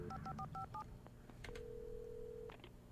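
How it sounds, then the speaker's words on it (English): Telephone dialing in the video game Alan Wake: a quick run of touch-tone beeps, then a long steady tone and a couple of clicks, clear and close. "I have to call the phone"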